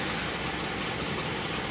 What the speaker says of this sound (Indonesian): Nih, dia masih stasioner